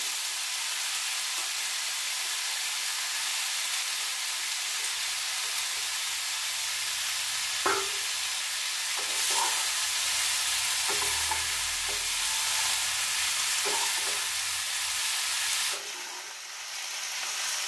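Capsicum and cauliflower for a mixed vegetable curry sizzle steadily in a pan, a constant loud frying hiss broken by occasional clacks and scrapes of a spatula stirring, with no talking.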